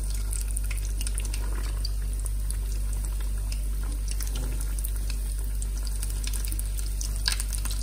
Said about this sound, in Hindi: ये देखिए माशाल्लाह कितने प्यारे फ्राई हो रहे हैं